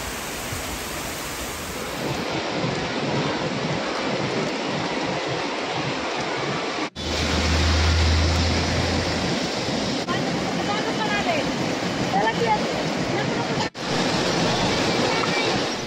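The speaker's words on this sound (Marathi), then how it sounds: "चाकणलगतच्या परिसरामध्ये सुमारे अर्धा तास असा मुसळधार पाऊस झाला" A heavy downpour near Chakan falls as a dense, steady roar of rain with two sharp breaks partway through. There are no clear voices.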